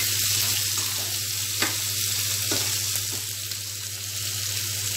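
Onions sauté in a pan for hotel-style onion chutney, hissing loudly and steadily while a spoon knocks and scrapes against the pan a few times.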